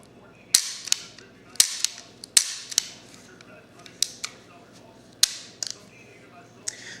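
Sharp pistol gunshots crack out one by one at uneven intervals, about a dozen loud close reports over a low steady background.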